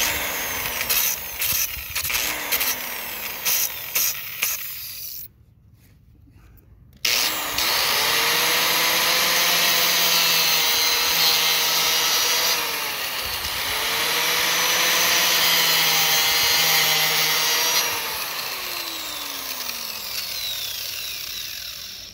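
A power tool grinds a groove into a rear brake pad from a 2013 Ford F150, a steady loud whine that cuts out briefly and then resumes, with the pitch dipping and rising as the tool works.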